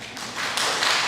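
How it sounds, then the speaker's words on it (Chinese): Congregation in a church youth ministry service clapping in encouragement, a broad wash of applause that builds and thickens over about a second, loud and close. "甲因掌声鼓励一下啦"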